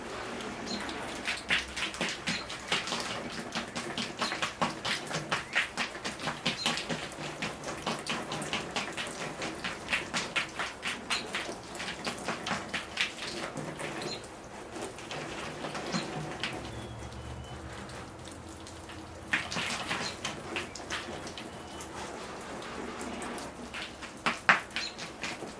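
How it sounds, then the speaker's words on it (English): A dwarf schefflera bonsai rinsed with water poured from a watering can over its branches and soil, a continuous close pattering splash like rain that eases and returns, alone without talk. "it's time to rinse the tree off"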